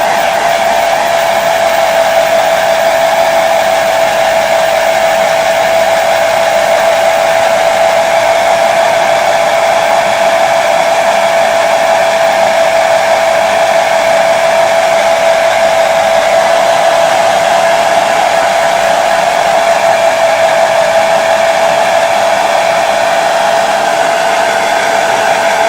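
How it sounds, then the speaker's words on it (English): A hair dryer blows on a painted Wizkids Dire Troll miniature, a loud, steady whirring drone with a strong tonal whine that runs unbroken and alone throughout. "So, what I'm going to do is use a hairdryer."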